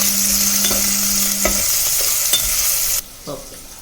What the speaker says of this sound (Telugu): కొంచెం మనం సాల్ట్ వేసుకుంటాం సో దట్ ఆనియన్స్ బాగా తొందరగా వేగిపోతాయి అన్నమాట.